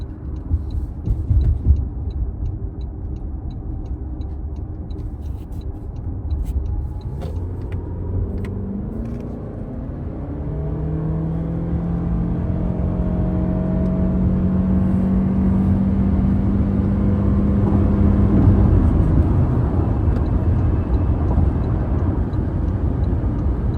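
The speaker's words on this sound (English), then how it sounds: "let's go ahead and do an acceleration test on this ramp to the highway" A 2025 Toyota Camry LE hybrid revs up steadily as it accelerates up a highway on-ramp, the rising engine drone climbing in pitch over road rumble and growing louder for about twenty seconds.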